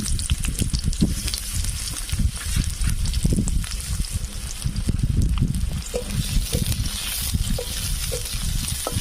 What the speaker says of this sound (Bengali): লঙ্কা ও পেঁয়াজ ভাজা হয়ে গেছে